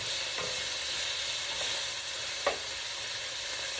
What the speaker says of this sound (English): So I'm just going to go ahead and stir this meat.